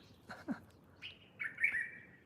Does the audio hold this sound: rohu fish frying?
no